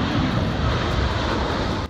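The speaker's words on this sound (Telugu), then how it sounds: "ఆకాశంలో విమానం వెళ్తే శబ్దం బాగా వినిపిస్తుంది" A loud, steady roar of an airplane engine passing overhead fills the short stretch without a break, ending abruptly.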